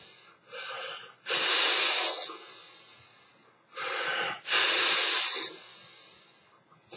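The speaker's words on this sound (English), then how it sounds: "the pursed lip breathing technique is something that's been mentioned to probably many of you out there" Two long exhalations through tightened, pursed lips, each a forceful hissing breath of about a second after a shorter airy inhale, close and alone.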